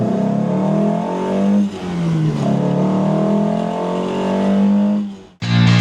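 A Lancia Fulvia's engine revs hard, a loud, close, sustained rasp that climbs and falls in pitch, eases off around the midpoint, then builds again before cutting out abruptly near the end, with a brief new sound starting afterward.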